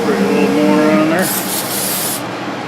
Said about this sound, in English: Spray a little more on there.